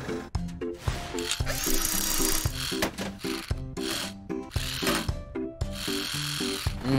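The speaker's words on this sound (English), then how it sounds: "A screwdriver will do the job." A screwdriver works in a cartoon repair scene, a series of quick ratcheting clicks and whirring tool bursts over a playful musical backing, moderately loud and rhythmic throughout.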